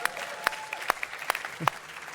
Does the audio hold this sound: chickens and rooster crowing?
no